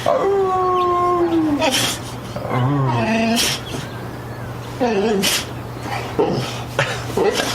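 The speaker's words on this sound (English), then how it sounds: "he's howling for you" A dog howls and whimpers in long wavering cries, rising and falling several times, close by, with a steady low hum underneath.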